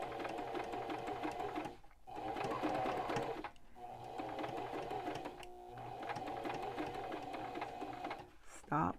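A sewing machine runs steadily while stitching around a fabric face mask, in several bursts broken by short stops, moderately loud and close.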